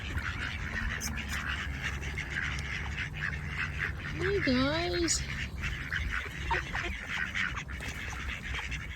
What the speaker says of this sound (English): Don't miss the duck pond.